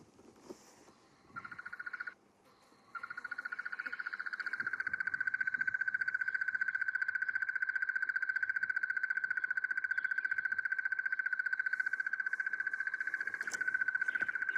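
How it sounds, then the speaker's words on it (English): A crested barbet call plays from a small speaker, a long, rapid, monotonous trill that continues steadily and loudly without a break. "That is our crested barbet, and it has a very monotonous call."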